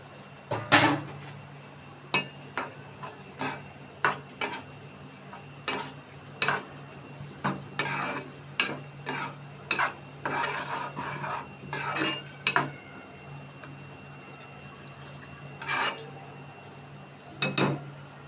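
Loitta dried fish cooking in a pan over low heat, with a utensil scraping and clacking against the metal in frequent irregular strokes, close and fairly clear with no one talking.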